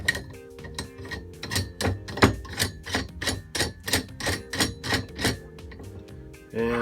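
A nut threaded onto the metal rod of a tumbler powder coating stand, giving a close, steady series of about a dozen sharp metallic clicks and taps in an even rhythm, with a louder scrape at the end.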